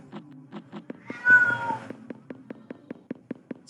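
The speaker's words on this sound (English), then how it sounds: "Sorry if you can hear my cat, she's meowing really loud." A pet cat meows loudly once in a drawn-out cry, close by, set against a repeated rhythmic ticking and pulsing game sound that runs throughout.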